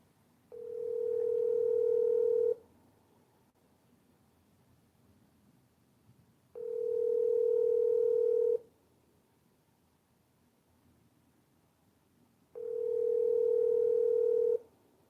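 A steady telephone call tone sounds three times in long even beeps separated by silent gaps, clear and fairly loud over faint line hiss.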